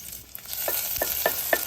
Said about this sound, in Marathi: तेल जरा गरम झालं की ह्याच्यामध्ये हा ठेचलेला लसूण घालायचा।